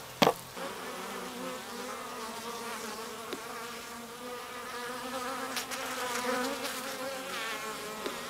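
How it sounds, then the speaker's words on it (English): A marked bee buzzes steadily while collecting water, a close, continuous hum that shifts slightly in pitch, with a couple of brief knocks and no talking. "The bee marked with yellow has just returned for more water."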